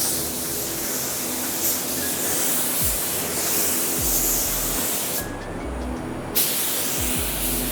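A Fujispray V8 spray gun sprays paint at around 25 PSI, producing a loud, continuous close-up hiss of atomized air with a few faint clicks and thumps underneath and a brief dip partway through.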